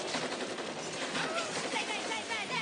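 Rapid bursts of gunfire from a South Park cartoon scene fill the whole stretch loud and dense, a continuous crackling volley with speech mixed underneath.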